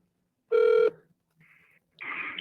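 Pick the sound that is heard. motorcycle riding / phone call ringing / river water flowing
phone call ringing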